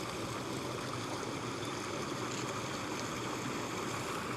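Creek water flows through the Australian bush in a constant, close, broadband rush and gurgle, steady and loud throughout with no voices over it.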